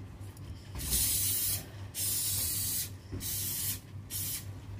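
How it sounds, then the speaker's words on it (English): Canola oil spray greasing a cake tin: four separate hissing bursts, each about a second long with short pauses between them, loud and close, with no talking. "So I'm just going to grease up my cake tin with"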